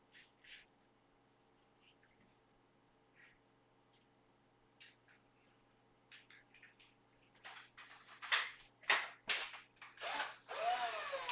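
A small power drill whirs in short, intermittent bursts, getting louder toward the end, with faint ticking and clicks between the runs.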